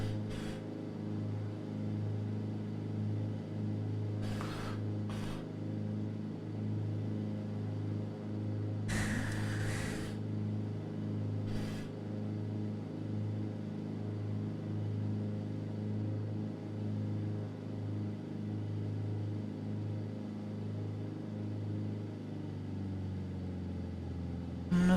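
A piston aircraft engine on a Cessna T210 turbocharged single at climb power drones steadily inside the cabin, a constant deep hum with brief bursts of radio or intercom noise breaking in a few times.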